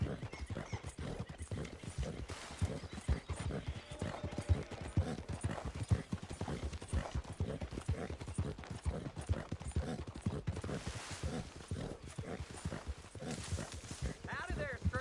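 Horse hooves clip-clop at a steady walking pace in a PS4 video game, with occasional whinnies and a near, continuous rhythm under background game sounds.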